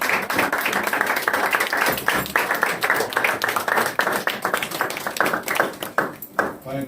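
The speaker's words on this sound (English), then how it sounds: "Please give a big round of applause." An audience claps in a hall after a presentation at a certificate ceremony, giving a dense run of sharp, close hand claps that holds steady and then thins toward the end.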